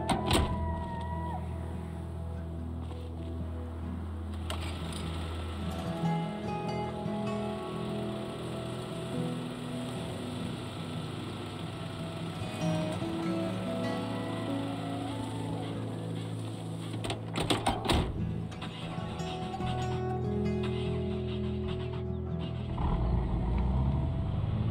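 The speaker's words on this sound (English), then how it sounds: "I think that was a new gas pumping sound as well." A gas pump fills a car at a store in Project Zomboid, a long mechanical whirring and gurgling run with rattly bursts partway through, close and steady throughout.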